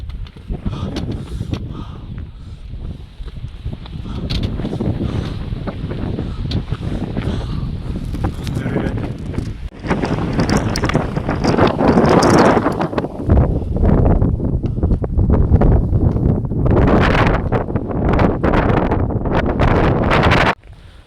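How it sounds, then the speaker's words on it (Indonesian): Strong gusty wind buffets the microphone on a steep mountain trail, a loud continuous roar that swells and dips in surges for the whole stretch. "Ini anginnya lumayan banter nih men."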